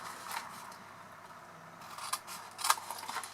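Scissors cutting pieces of a paper box, faint soft snips and rustles early, then a few sharper crisp cuts near the end, close and quiet with no talking.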